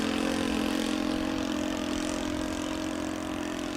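An OS 95 engine powers a Seagull D60 Gipsy Moth model aircraft, giving a steady, droning buzz that holds at a moderate distance without any break.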